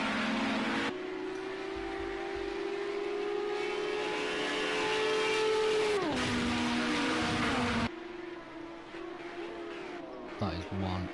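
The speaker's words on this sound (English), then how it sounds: "That is one nice sounding car." Race car engine in the racing video game Project Cars 2, a loud sustained high-pitched drone that holds steady and then drops in pitch as the car brakes, with commentary voices running over it throughout.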